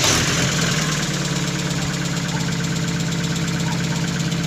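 A Mazda Miata engine idling after a misfire repair, a steady, even mid-low rumble with a slight rhythmic patter, loud and close throughout, no talking.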